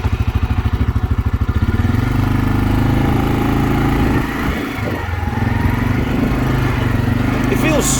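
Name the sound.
CFMOTO CFORCE 520 ATV engine while driving around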